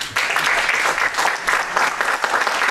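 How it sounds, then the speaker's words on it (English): A conference audience at AgoraCon 2019 gives a warm round of applause to welcome a speaker: dense, loud clapping from many hands, fluctuating slightly in intensity and continuing throughout. "a warm applause for Nat Trindade."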